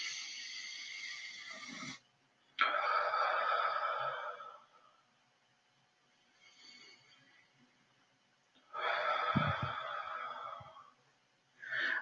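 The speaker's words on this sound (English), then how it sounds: "let's take a couple deep breaths first." Slow, deep breaths are drawn in and let out close to the microphone during a guided relaxation, with long airy inhales and exhales separated by quiet pauses.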